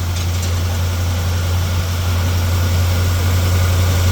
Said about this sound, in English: that idle right there, that's a cold start idle